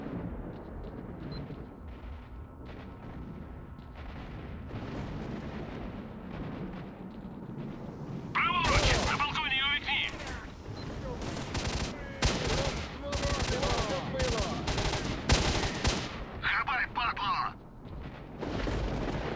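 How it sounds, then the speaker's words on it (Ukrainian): Rapid bursts of gunfire in the video game S.T.A.L.K.E.R.: Shadow of Chernobyl, set in Pripyat, crack out in loud, dense volleys through the second half after a quieter rumbling start, with voices talking underneath. "стрілянинка."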